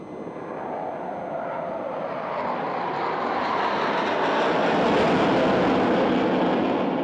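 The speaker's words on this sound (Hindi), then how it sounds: "चीते की भांति हमला करने वाले ये हवाई विमान पैंथर्स अपने नाम को पूर्णतः चरितार्थ करते हैं" An Indian Navy military jet roars overhead while performing aerial stunts above the sea, a broad rushing engine noise that swells steadily and stays loud throughout.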